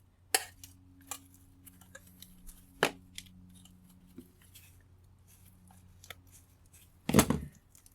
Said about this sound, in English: we need to clean up our copper and get the tape removed